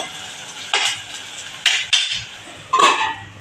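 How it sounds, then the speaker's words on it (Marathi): A metal lid set onto a cooking pan while preparing a tempering for a Konkani horse gram zunka, giving a few sharp clattering clinks spaced through a quiet kitchen. "तर मी 1 मिनिटभर झाकण ठेवणार आहे वर।"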